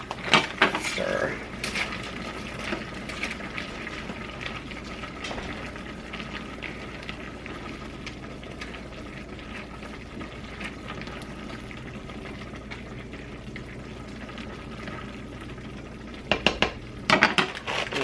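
Egg noodles stirred in a boiling pot on a stove, with a faint steady bubbling hiss and soft scraping and clinks of a utensil against the pot, louder clatter at the start and end.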